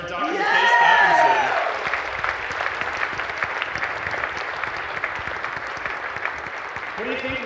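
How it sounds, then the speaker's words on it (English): Enthusiastic audience applause and a few whoops for a science demonstration speaker, a loud swell at first that settles into steady clapping while a voice speaks over it early on. "How about one more round of applause for Dr. Yeah. Case Stephenson?"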